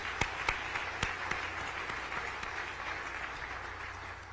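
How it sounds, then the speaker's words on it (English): Crowd applause during a mayor's state of the city speech in Lincoln, a dense patter of many hands clapping with a few sharper claps early on, holding steady and tapering slightly toward the end. "let's clap for that too"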